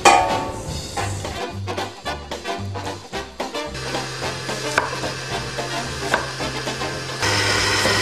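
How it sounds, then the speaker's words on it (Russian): A large red food processor chops apples for a quick charlotte, starting with a series of short pulsed bursts and then settling into a sustained, close motor whir with rattling. "Резать яблоки в таком большом миксере красном"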